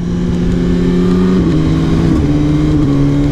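A BMW S1000R roadster motorcycle engine revs up close, loud and steady, its pitch stepping through a couple of gear-like shifts.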